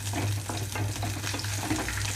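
Green chillies frying in oil for chutney give a close, low crackling sizzle with scattered small pops and a spoon stirring now and then, steady throughout.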